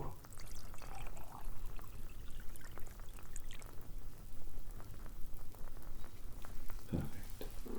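A liquid potion pours into a small tincture bottle, a soft, close, trickling splash that runs for several seconds in a quiet room.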